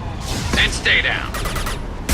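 Rapid gunfire from the video game Mass Effect 2 rattles in dense bursts throughout, loud and continuous under a brief voice line.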